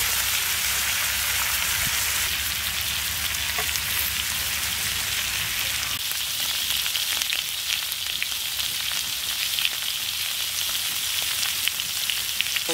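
Quail fries in butter with pickle flavouring, a loud, steady, rain-like sizzle with fine spattering pops heard close throughout, with no speech.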